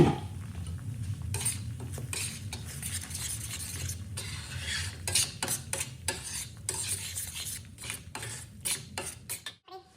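Tomato puree with Punjabi masala being stirred in a pan for paneer lababdar over low heat, a spoon scraping and clinking against the metal in uneven strokes over a soft, low simmer.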